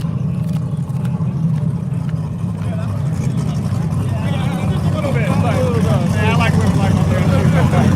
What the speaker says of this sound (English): So here comes some more A group cars.